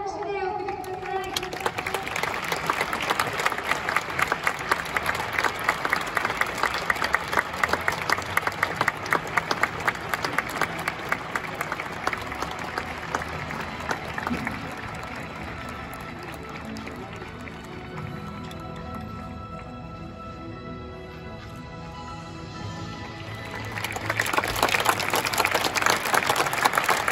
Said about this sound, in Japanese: それでは皆さん、どうぞ温かい拍手でお送りください。